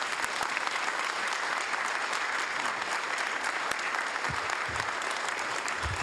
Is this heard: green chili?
no